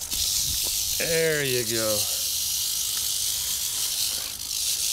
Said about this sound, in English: Is it a snake? Yeah.